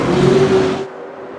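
Vintage McLaren and Lola sports cars roar off the start in a 1966 British Sportscar Championship race at Crystal Palace, London, in a racing game; a loud, dense engine roar that cuts off abruptly partway through.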